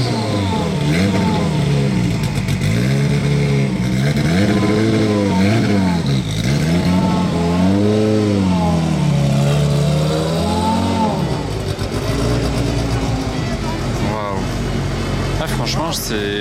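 An Aston Martin Valkyrie hypercar engine revs loudly and close, rising and falling in repeated throttle blips, with someone speaking French over it.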